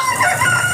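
A fighting rooster seized in a police raid on cockfighting gambling crows briefly, a loud, harmonic call over a noisy, busy background.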